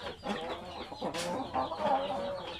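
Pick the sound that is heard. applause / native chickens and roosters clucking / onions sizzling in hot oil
native chickens and roosters clucking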